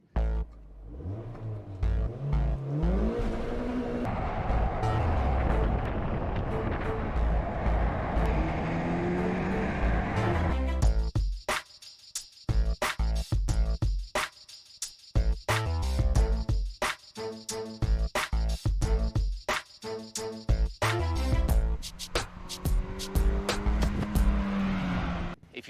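A 2012 Mazda MX-5 Miata, a lightweight sports car, drives hard with a rising and falling engine note and brief tire noise. The engine sound fades after the first half and is followed by sparse, choppy sounds.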